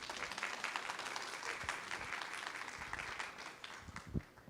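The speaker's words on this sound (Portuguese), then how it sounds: "Dê uma salva de palmas para ela." An audience gives a burst of sustained applause, many hands clapping together at moderate volume.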